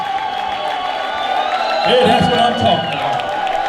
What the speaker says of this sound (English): You need to cheer and clap so we can hear this down UPS.